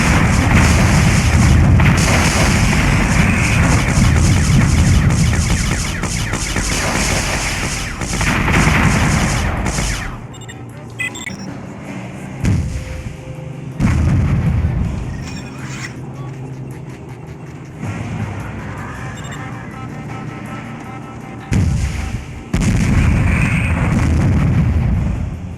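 Artillery fire from enemy guns in the Warzone 2100 strategy game, heavy booming barrages and rapid gunfire bursts, loud and dense at the start and end with sparser thuds and explosions in between.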